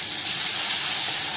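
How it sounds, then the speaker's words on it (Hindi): Dried whole red chilies and curry leaves frying in hot oil for a Mumbai-style ragda, giving a steady, loud, continuous hiss that holds evenly throughout with no voices. "खड़ी लाल मिर्च है वो डालें, और साथ में कड़ी पत्ता। इसे थोड़ा सा फ्राई होने देते हैं।"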